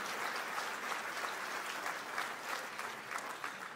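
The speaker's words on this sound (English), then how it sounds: "Let's give them another big round of applause" Sustained applause from an audience at an awards luncheon, a steady dense patter of clapping that holds at an even level throughout with no voices over it.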